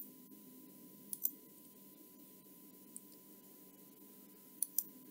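A computer mouse clicking while scheduling an event in a web page: a handful of faint, sharp clicks, some in quick pairs, spaced over a quiet background with no talk.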